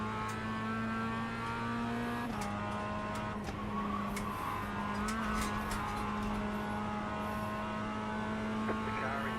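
A Mazda MX-5 race car lapping Lime Rock Park, its engine a steady droning tone that drops in pitch with a gear change, along with faint tire noise and a few quiet voices over the radio.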